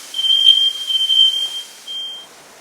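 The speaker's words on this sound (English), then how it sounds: "So that was the fire alarm going off." A smoke alarm sounds in a home kitchen during burger cooking, a loud, piercing steady beep held for about two seconds, with a faint hum of the room around it and no talk.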